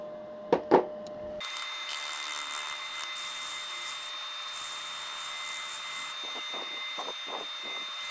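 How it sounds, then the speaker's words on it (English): A wooden bowl is sanded by hand with abrasive, a steady rough rubbing hiss following a couple of brief knocks, continuous and fairly close with small pulsing swells near the end. "I think probably I can get the abrasive out and use the abrasive on there."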